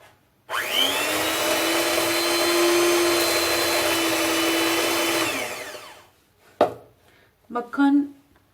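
Electric mixer beating butter and sugar at low speed for cookie dough, a steady close whirring drone that runs about five seconds then winds down, followed by a few brief clinks and knocks.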